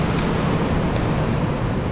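Water from Kumbe waterfall rushes in a dense, loud, unbroken roar heard from the top of the falls, a broadband hiss with no pauses and no voices.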